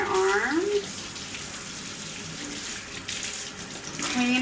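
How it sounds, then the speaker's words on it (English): Tap water runs steadily into a sink as hands and arms are washed and rinsed with ordinary soap during an aseptic surgical scrub, a continuous close splashing hiss with short tonal squeaks at the start and end. "I'm just washing my hands with normal soap very quickly, making sure not to touch any surfaces, and I'm always rinsing down my arms"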